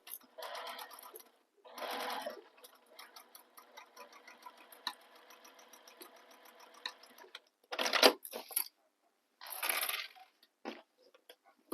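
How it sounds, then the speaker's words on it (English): A sewing machine sews a bag seam in several separate runs, each a close, rapid mechanical whir, with a steady ticking patch between and pauses of silence. "you're sewing this using the seam allowance given in the pattern"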